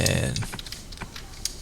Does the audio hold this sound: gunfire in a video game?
no